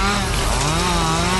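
A chainsaw in a film trailer roars loud and continuous, a dense steady motor buzz with no pauses through the whole short stretch.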